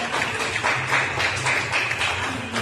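A church congregation at a youth service applauds, a dense, steady patter of many hands clapping that swells slightly midway, heard up close without speech over it.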